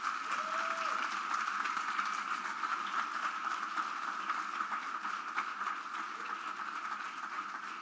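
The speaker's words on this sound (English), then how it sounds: "Can we give them a round of applause?" An audience at a conference closing ceremony applauds the organizers with steady, dense clapping that stays even in level from start to finish, with no speech over it.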